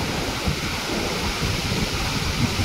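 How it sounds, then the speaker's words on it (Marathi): Water gushing through three open gates of the Radhanagari dam, a loud constant roaring rush with deep rumble, no rain and no speech. "सध्या या ठिकाणी आपण बघू शकताय 3 दरवाजातून हा विसर्ग सुरू आहे"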